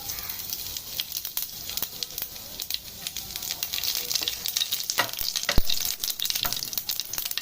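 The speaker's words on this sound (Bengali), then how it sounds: "শুকনো লঙ্কা আর গোটা জিরের ফোড়ন দেবো" Dried red chillies and whole cumin seeds sizzle in hot oil in a kadai before chicken liver goes in, a crackling, spattering hiss with many sharp pops, growing busier toward the end, close and without talk.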